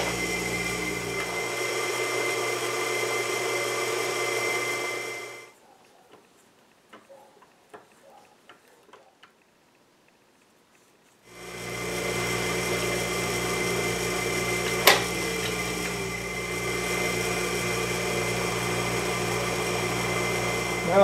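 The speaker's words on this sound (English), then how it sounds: "Now I'm drilling a clearance hole halfway through." A drill press drilling a clearance hole whines steadily, drops to near silence with a few small clicks for several seconds, then spins back up and runs on.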